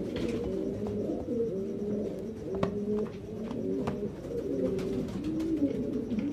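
Sialkoti Ali wale pigeons coo in a steady chain of soft, throaty, rolling calls, close by, with light rustling and clicks between phrases and no talking.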